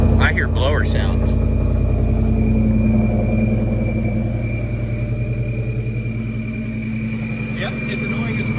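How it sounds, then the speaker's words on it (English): A 2025 Ford F150 with the 5.0 V8 and an ESS supercharger running just after startup, a loud close steady engine drone with a high whine from the blower, while people talk over it. "I hear blower sounds."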